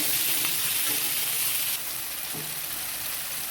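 Tomato stirred into spiced oil while frying for a Bengali onion fish dish, giving a steady close sizzle with light scraping of the spoon, softening slightly partway through.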